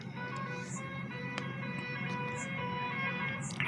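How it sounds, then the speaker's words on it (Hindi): Steady road traffic drones outside with a continuous engine hum, a faint ringing tone and occasional brief clicks, with no one speaking. "ट्रैफिक की आवाज़ आ रही होगी"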